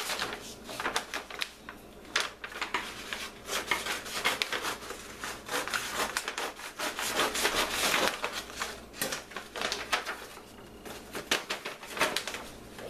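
Wrapping paper being cut with scissors to make gift bags: a steady run of crisp, papery rubbing and snipping strokes, close and fairly quiet, with no talking.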